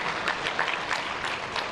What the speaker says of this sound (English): Ladies and gentlemen, a round of applause for the Honorable Minister of State for Investment.